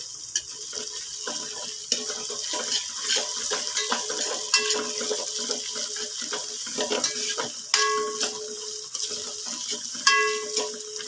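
Fresh ginger-garlic paste is stirred and fried in a pan while mutton dum biryani is being made. A continuous sizzle carries repeated scraping strokes and occasional bright metallic clinks of the spoon against the pan.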